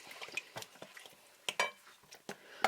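Dough ingredients, a whole egg and a pinch of salt, mixed by hand in a bowl, giving soft, irregular scraping and tapping clicks, quiet and close, with no talk.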